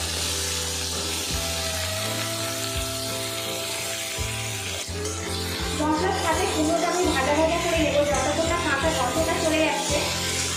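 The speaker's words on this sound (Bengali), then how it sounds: "এবারে এর মধ্যে কেটে রাখা আলু আর কুমড়োটা আমি দিয়ে দেবো।" Chopped potato and pumpkin hit a pan of fried tomato for an achari pumpkin curry, giving a steady sizzle that grows louder and busier midway, while a voice talks throughout.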